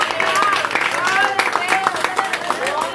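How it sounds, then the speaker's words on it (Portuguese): Congregation at a church service clapping, a dense patter of hand claps with voices and shouts mixed in, steady and fairly loud throughout. "Pode aplaudir o nome de Jesus."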